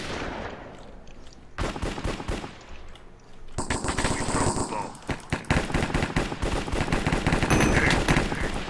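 Rapid automatic gunfire from a Minecraft Counter-Strike-style Cops and Crims match: a short burst of shots, then a sustained, dense stream of rattling fire that grows louder toward the end.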